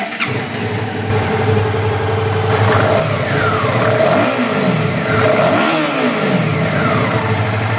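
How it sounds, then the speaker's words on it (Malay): A Suzuki V-Strom motorcycle engine with standard exhaust runs steadily at close range, with a few brief revs rising and falling over a deep, continuous rumble. "exhaust masih standard lagi. Bagus guys. Ini tak akan menimbulkan masalah dengan pihak polis. Bunyi enjin pun sangat sedap"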